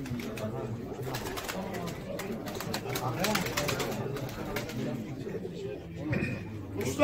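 Soft pigeon coos repeat among a murmur of crowd chatter and voices, with wing flutters and shuffling in a busy indoor bird auction hall in Yenimahalle, Ankara.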